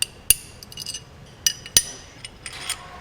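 Steel stock bolts clink against Pontiac connecting rods from a '68 Firebird 350 engine on a workbench: a few sharp, close metallic taps and rattles spaced irregularly, with light handling noise between them.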